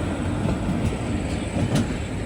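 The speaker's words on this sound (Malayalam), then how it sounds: "അങ്ങനെ ട്രെയിൻ ഇതാ പാലക്കാട് ജംഗ്ഷനിലേക്ക് എത്തുകയാണ്" A train rolls into Palakkad Junction as a steady, loud, close rumble of wheels and carriages, continuous throughout with no voices.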